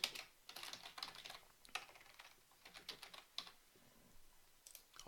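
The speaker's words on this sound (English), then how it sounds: "And so I'll just type in a prefix." Keys clatter on a computer keyboard in quick irregular bursts of light clicks, close and quiet, with short pauses between runs of typing and no voices.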